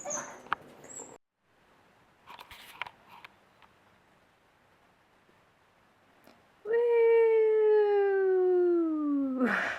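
A dog whimpers and cries at a house sit in England, with a few faint stirrings before a long, loud, wavering whine that falls slowly in pitch and ends abruptly.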